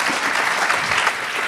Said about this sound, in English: Everyone, please give Helen a huge round of applause